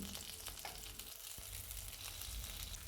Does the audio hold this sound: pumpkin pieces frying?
yes